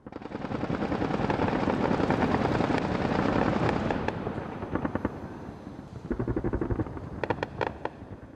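Heavy anti-aircraft gunfire around Tripoli in the early hours of the night, a dense sustained roar of bursts and rumble that thins into separate sharp cracks and rapid volleys toward the end.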